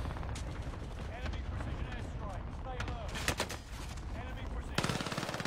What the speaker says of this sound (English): Shots from behind.